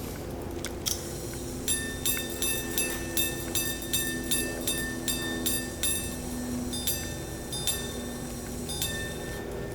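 An 1800s Swiss silver grand sonnerie clockwatch pocket watch strikes on its own, giving a steady run of bright, ringing chime tones with clear repeated strokes, close and alone without talk.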